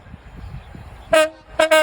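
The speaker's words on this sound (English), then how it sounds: "we've just caught a freight train" A passing freight train sounds its horn in two loud, close blasts near the end, the second longer, after a brief low rumble.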